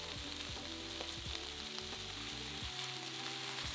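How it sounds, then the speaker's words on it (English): Diced onion frying over medium heat in a pan after pork has been browned, a faint steady sizzle with light stirring clicks and a low background hum, no speech. "Now turn down to a medium heat and add in a diced onion."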